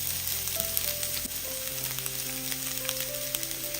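Chopped onion fries in hot oil with garlic, giving a continuous close sizzle with crackling pops, while steady tones hum underneath throughout.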